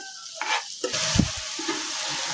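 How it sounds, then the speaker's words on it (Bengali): Bitter gourd frying in its own oil in a pan, a steady soft sizzle with a brief clatter of stirring in the middle, close and without talk. "এই তো এই তেলে এটা ভাজিও হয়ে যাবে"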